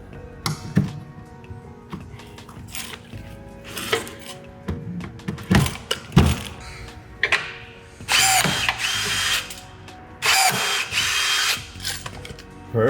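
A pneumatic rivet tool sets a long rivet in the center hole of a composite side rocker on a 2020 C8 Corvette, with clicking ratchet-like mechanism sounds and several short, loud whirring bursts near the end.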